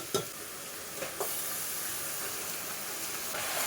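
Raw chicken hits hot frying masala for a home-style village chicken curry, with a couple of quick stirring knocks and then a loud, steady sizzle and hiss that carries on alone.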